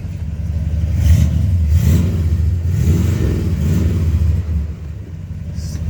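A car engine revs hard, climbing and falling in several loud surges over a steady low rumble, close by and with no speech.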